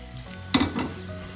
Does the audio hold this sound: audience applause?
no